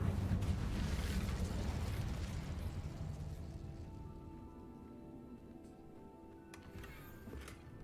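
An Incendio fire spell erupts in Hogwarts Legacy with a loud roaring whoosh that fades gradually over several seconds, leaving a quieter hum and a few faint crackles.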